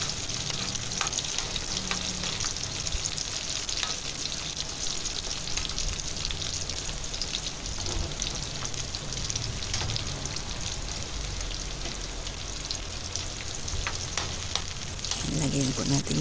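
Onion and garlic sautéing in a pan for corned beef, a steady loud sizzle and crackle of frying running through the whole stretch with occasional stirring scrapes.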